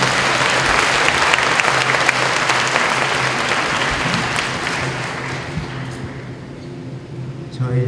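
Warm, dense applause from an auditorium crowd of high school students, parents and teachers greets the Chung-Ang University president at a campus event, loud and sustained for several seconds before thinning and fading near the end.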